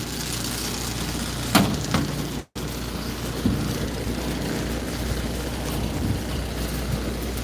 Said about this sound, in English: Blower's running.